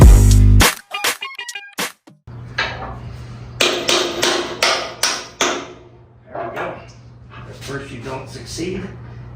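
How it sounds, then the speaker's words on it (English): Several sharp metallic hammer strikes, loud and close, in quick bursts, hammering a part in during a Chevrolet C10 leaf spring to trailing arm conversion, followed by a steady hum with more scattered knocks and clatter. "hammer it in."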